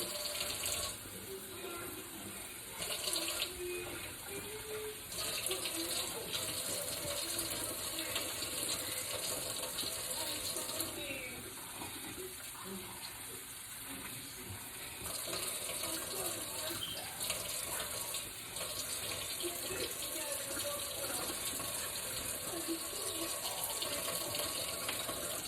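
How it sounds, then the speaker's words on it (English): Tap water runs steadily for a long stretch while cornbread is being made, a soft continuous hissing gush with faint background sounds and little change in level. "We're going to add a little water with it."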